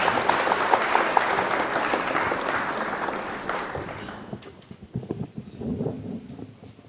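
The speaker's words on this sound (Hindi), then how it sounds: "जोरदार तालियों से इस्तकबाल करें भाई राजवीर सिंह राज" Loud audience applause at a mushaira welcomes the poet Rajveer Singh Raaj, a dense roar of clapping that tapers off after about four seconds into scattered claps and crowd noise.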